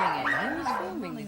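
A dog barks and yelps close and loud in a short excited burst, its pitch sliding up and down, mixed with voices.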